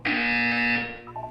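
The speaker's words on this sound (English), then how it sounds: "When you hear the buzzer, look down at the floor." A loud electronic buzzer from the Portal 2 video game, a harsh sustained tone holding for nearly a second before cutting off into fainter fluttering tones.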